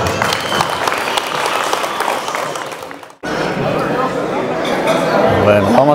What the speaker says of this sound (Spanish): Un fuerte aplauso para los niños